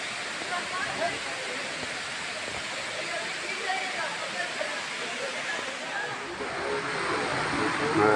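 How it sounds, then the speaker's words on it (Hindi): Palani waterfall in the Patratu valley near Ranchi, Jharkhand, pours down from a height, giving a steady, loud broadband roar of falling water that swells slightly toward the end, with faint crowd sounds mixed in. "देखिए ऊपर इतना ऊपर से पानी गिरता है"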